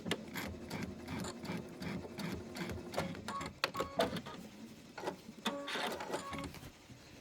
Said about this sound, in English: I'm going to stitch it. Make sure it's perfect.